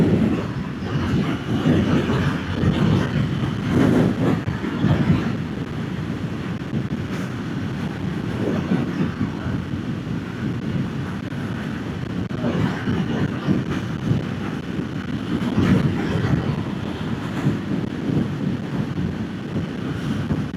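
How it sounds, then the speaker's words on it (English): Wind buffeting a motorcycle rider's microphone on the road, a continuous low rumble with gusty surges over engine and road drone throughout. "I'm still hearing a lot of wind noise"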